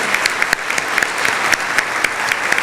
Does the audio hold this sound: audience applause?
yes